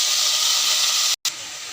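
Ginger, garlic, pepper and cumin fry in a pan for mint chutney, giving a steady close sizzle that cuts out briefly near the end and then resumes.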